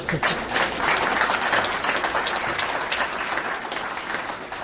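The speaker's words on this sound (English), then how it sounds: "You give a round of applause for that." A packed audience at a law enforcement valor awards ceremony in Gainesville, Florida breaks into loud, sustained applause, dense clapping that fills the hall steadily for several seconds, with scattered cheers mixed in.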